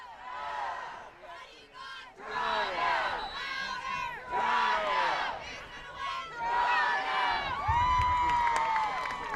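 Crowd at a high school football game, Toronto Red Knights versus Wellsville, roaring and shouting in repeated swells that rise and fall over several seconds, loud and close, with voices mixed in.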